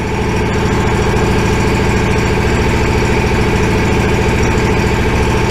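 An Exmark riding mower engine idles after a warm start with no choke, a loud, steady close-up drone with an even rapid pulse and no talk.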